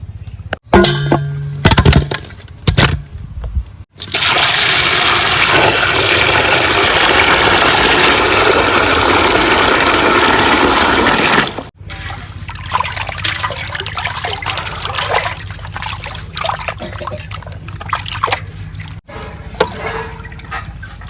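Gurjali fish being washed in water, a steady rush of pouring, splashing water running for several seconds between quieter handling noises, with no talk.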